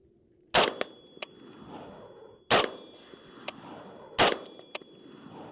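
Three loud, sharp rifle shots are fired with iron sights at a 70-yard range, evenly spaced. Each crack is followed by a faint metallic ring from a steel target, with quieter clicks and low wind between the shots.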